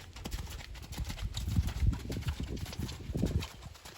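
A horse canters in a dressage arena, hooves thudding in a steady three-beat rhythm at close range, with soft footfall clusters repeating through the short stretch.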